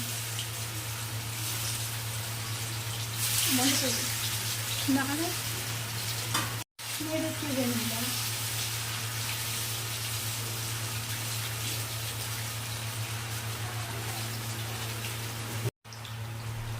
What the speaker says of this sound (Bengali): এবার পনিরগুলো এর মধ্যে দিয়ে দিলাম